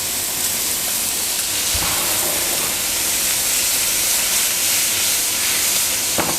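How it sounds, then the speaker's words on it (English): Butter sizzling in a hot pan while lamb rump steak cooks, a steady bright hiss that runs loud and continuous with no talking. "And now we're going to add some butter."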